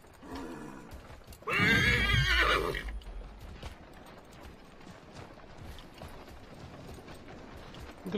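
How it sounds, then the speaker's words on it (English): Glitching horses in the video game Assassin's Creed III give a loud, close whinny lasting over a second, followed by steady clip-clop hoof clatter with faint mechanical clicks. "Glitching horses."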